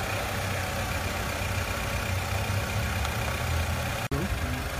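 A car engine idles steadily during a battery charger test, a constant close drone with a brief dropout near the end.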